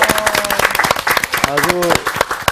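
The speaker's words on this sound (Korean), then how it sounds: "박수 한번 하시죠." A Bible study class breaks into brief applause, scattered clapping mixed with people talking over it and a few tonal voice sounds.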